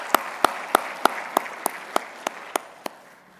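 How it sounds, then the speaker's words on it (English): Applause at an industry partnership summit in a convention centre, with one near, sharp clapper beating a steady rhythm of about ten claps over a softer wash of background clapping. "Give them a round of applause."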